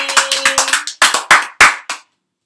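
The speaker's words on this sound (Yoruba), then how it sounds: "Ẹ pàtẹ́wọ́ fúnra yín" Children clap for themselves in a lively burst of quick, close handclaps, a rapid run followed by a few slower, louder claps before stopping.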